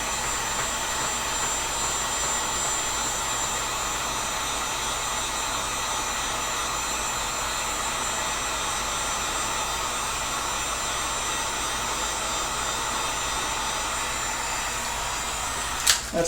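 A heat gun blows continuously, a steady close whooshing roar, while warming PVC pipe to shape a sword blade, with a brief knock at the end.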